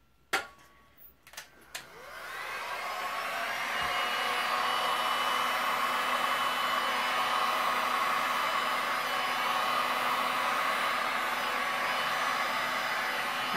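After a few clicks and knocks, a heat gun starts up over resin poured on a ceramic dessert stand, then runs as a steady, close rushing hiss of hot air that keeps going to the end.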